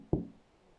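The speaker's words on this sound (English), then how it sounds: "So he knocked on the door" A single soft knock on a wooden door, brief and faint, alone in quiet.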